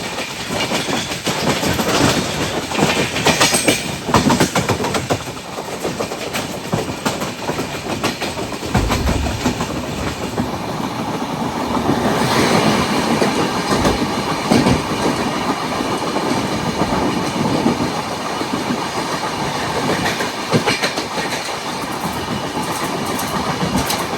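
A Duronto Express runs steadily on the rails for a sustained stretch, its rhythmic clickety-clack of wheels over joints and the rumble of the coaches filling the space, heard close from on board with no talk.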